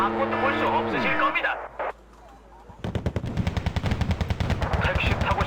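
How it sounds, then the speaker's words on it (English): Rapid automatic grenade launcher fire in the Wargame: Red Dragon strategy game, a fast rhythmic string of loud thumping shots following a stretch of in-game voice and a brief lull. "Grenade launchers firing."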